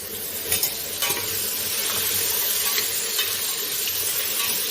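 Pumpkin pieces frying and being stirred in a pan for kadambam, a dense sizzle with close scraping stir strokes throughout, no talking.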